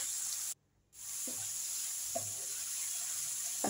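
Chicken cooking down with mixed spices and homemade chili sauce in a pan: a steady close sizzle and hiss, briefly cut off near the start, with a few soft stirring knocks and no voices.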